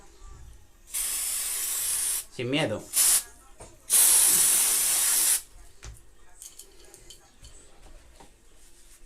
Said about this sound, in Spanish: Le echaremos nuestro spray de silicona.